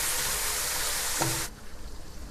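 Chicken korma frying and being stirred in a pot over a high flame: a loud, steady sizzle with a single clink of the spoon before the frying noise abruptly drops away, no talking.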